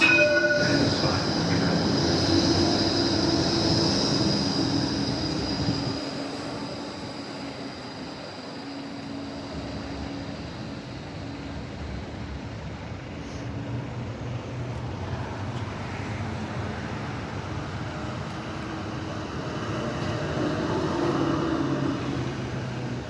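An HCMT metro train runs steadily nearby in Melbourne, a loud continuous rumble of wheels on rails that eases slightly midway, then swells again.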